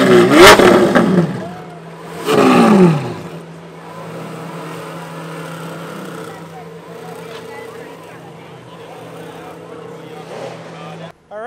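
A Lamborghini Centenario's engine revs in two loud, close bursts while the car is loaded onto a trailer, then settles into a steady idle rumble with voices nearby.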